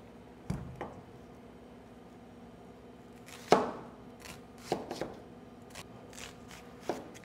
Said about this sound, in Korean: 정장파를 썰어서 좀 올리겠습니다